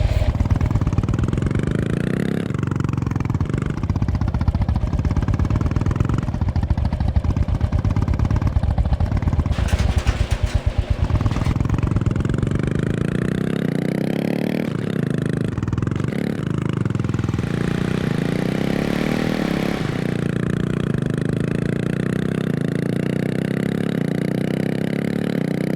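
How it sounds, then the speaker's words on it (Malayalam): A Royal Enfield Bullet motorcycle on the move, its thumping single-cylinder engine loud and close throughout, rising and falling as the rider accelerates and shifts, with wind noise and occasional rattles. "നമ്മൾ പോകുന്നതെന്ന് വെച്ചാൽ റോയൽ ഫീൽഡിൻ്റെ ബൈക്കുമേലാണ്, ബുള്ളറ്റുമേലാണ്"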